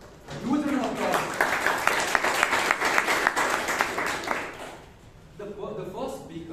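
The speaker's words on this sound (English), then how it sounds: "Huge round of applause" Applause from the audience at a Toastmasters club meeting in Bangalore, a short burst of clapping that fades out, with voices talking over it at the start and again as it dies away.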